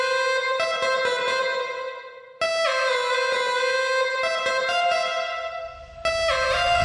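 Second new jazz lead line built in FL Studio, a bright, harmonically rich synth playing repeated staccato notes and held tones in a loose rhythm, with distorted, effects-heavy timbre and a low bass entering near the end; no voices.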